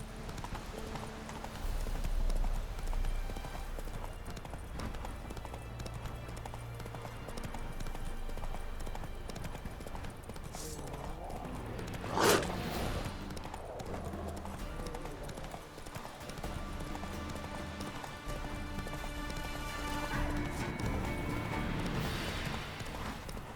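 Roach the horse trotting in The Witcher 3: Wild Hunt, a steady clip-clop of hooves running on for the whole stretch, with game ambience, a sharp burst near the middle and faint voices.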